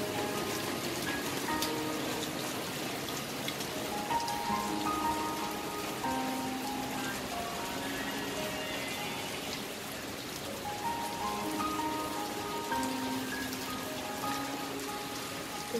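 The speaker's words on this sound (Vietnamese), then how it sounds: "Mưa rơi." Steady rain falls on a flower garden in Đồng Tháp, an even hiss of drops pattering on leaves and surfaces, with faint chirping bird or insect calls scattered through the soaked backdrop.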